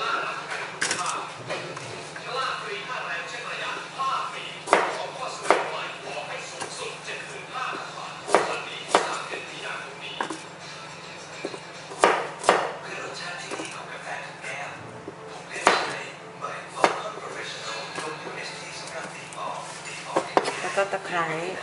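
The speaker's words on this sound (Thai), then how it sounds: "เดี๋ยวหั่นหอมแดงก่อนนะคะ" Rapid irregular knife taps chopping shallots on a cutting board, close and crisp, with a steady low hum and occasional kitchen clatter underneath.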